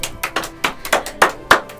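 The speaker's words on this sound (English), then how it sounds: "Y'all give yourselves a round of applause." A string of seven or eight sharp hand claps at a steady, unhurried pace, close and fairly loud, with no voices.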